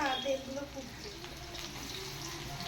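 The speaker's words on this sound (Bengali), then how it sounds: "এবার পেঁয়াজটা একটু ফ্রাই করে নাও" Onions frying in a pan make a soft, steady hiss up close, with a voice briefly heard over the start.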